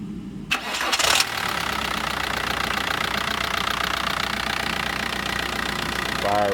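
Diesel engine being cleaned, cranked and catching within about a second, then settling into a loud, steady, rough idle with a knocking clatter that continues to the end; a voice is heard briefly near the start.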